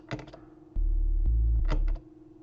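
A low, steady synthesizer hum made of two sine waves sits alone for about a second, with faint clicks and taps before and after it.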